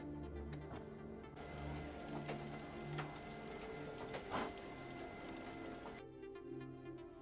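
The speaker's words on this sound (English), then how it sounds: "Press the button for double sheet positioning run twice again, and the sheet will be transported to the delivery." A Printmaster QM 46 sheet-fed offset printing press runs a cycle transporting a sheet to the delivery, giving a steady mechanical whir with rhythmic clicks, clacks and tonal hums, moderately quiet and with no talk.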